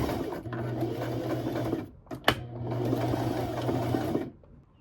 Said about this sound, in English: we're going to take this to the sewing machine and we're going to stitch in the ditch